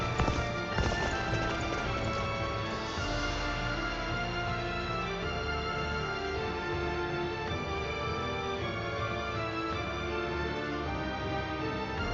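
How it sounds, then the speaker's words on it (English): Horses gallop in the Dynasty Warriors Origins video game, a continuous rapid clatter of hooves under a dense wash of battle sound and music for the whole stretch. "so that's where some of the horses are"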